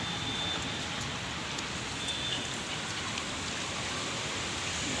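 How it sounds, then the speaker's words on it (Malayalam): Heavy rain falls steadily in Bangalore, a dense, even hiss of drops on surfaces that stays loud and unbroken throughout, with no voices. "നല്ല മഴ."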